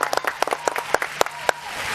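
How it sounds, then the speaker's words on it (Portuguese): Sparse, rhythmic hand claps sound on a Brazilian sports radio debate show, a quick series of sharp individual claps close and fairly loud, like a small applause effect. "bota palmas"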